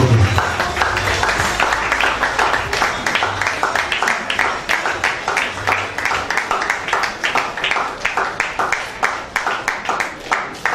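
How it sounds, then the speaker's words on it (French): Applause from a crowd at a civil wedding ceremony, a steady, dense patter of many hands clapping that holds loud and unbroken throughout, with rhythmic surges near the end. "sur vos applaudissements s'il vous plaît."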